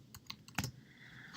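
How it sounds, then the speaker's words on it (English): Several quick keystrokes on a computer keyboard while typing a sentence in Microsoft Word, soft close clicks in a short, uneven burst. "if I need to type up a sentence like Merry"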